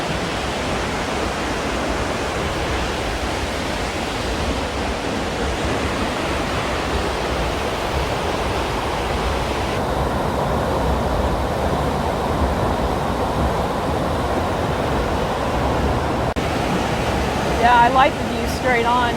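High Falls waterfall on Minnesota's North Shore cascades in a steady, full roar of rushing water that holds constant throughout, with a faint voice briefly near the end.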